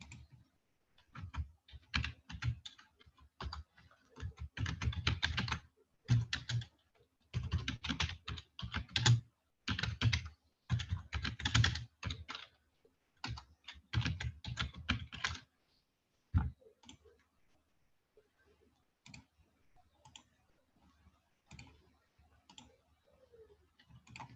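Someone types a chat message on a computer keyboard, with dense bursts of quick keystrokes for about sixteen seconds, then a few sparse, isolated clicks in quiet.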